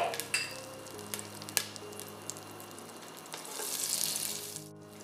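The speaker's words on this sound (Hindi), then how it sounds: "एक पतीली में हम बटर डाल देंगे और साथ ही हम इसमें डाल देंगे 3 टेबलस्पून कुकिंग ऑयल और इसे मेल्ट कर लेंगे" Butter and three tablespoons of cooking oil melt in a pot, giving a steady close-up sizzle with a few sharp crackles and a brief scraping swell near the end; no one speaks.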